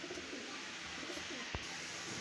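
Pigeons kept by a breeder in Lahore coo softly over a constant hiss of background noise, with a single sharp knock near the end.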